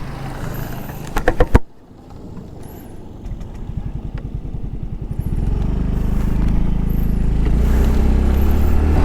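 A Honda Fazzio 125 scooter opens up to top speed, starting with a short burst of clatter and a brief drop, then a steady engine drone that builds and grows louder and denser.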